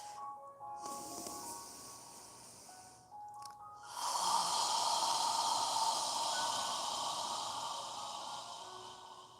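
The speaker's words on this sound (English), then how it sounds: "as you exhale, imagine you're fogging a mirror with your breath" Deep, slow breathing during a yoga session: a soft inhale, then a long, steady, airy exhale like fogging a mirror that swells loud and fills the second half.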